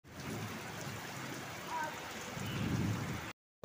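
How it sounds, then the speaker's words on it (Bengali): Heavy monsoon rain pours down in a steady, dense hiss that swells toward the end, then cuts off abruptly. "প্রচণ্ড বৃষ্টি হচ্ছে মুষলধারে"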